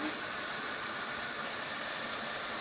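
Red bean sauce simmering in a pot with plenty of oil, giving a steady, soft hiss and faint bubbling throughout, with no talk.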